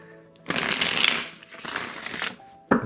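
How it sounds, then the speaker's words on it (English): Tarot cards are riffled and shuffled in two quick bursts, followed by a brief tap, close up with no talking. "I'm going to give this just a quick little shuffle here."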